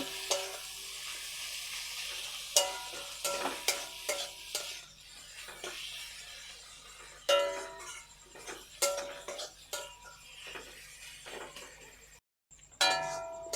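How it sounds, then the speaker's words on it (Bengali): Raw green mango pieces fry in a pan tempered with mustard seeds, giving a soft sizzle broken by repeated sharp clicks and scrapes of a spatula as the pieces are stirred, with quieter stretches between. "এবার ভালো করে ভেজে নেব, নেড়ে চেড়ে এর সঙ্গে মিশিয়ে নেব।"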